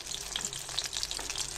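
Pork lumpia shanghai spring rolls fry in hot oil with a dense, steady crackling sizzle, close and continuous with scattered sharper pops, and no talk over it.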